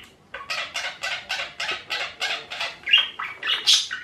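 A pet budgie squawks noisily in a rapid series of about a dozen harsh, rhythmic calls, close and loud, ending in a few shriller squeaks.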